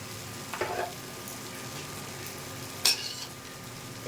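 Soya chunks dropped into a frying pan for a papaya and potato curry and stirred, a quiet background sizzle broken by a couple of short scraping, clinking stirs of a utensil against the pan.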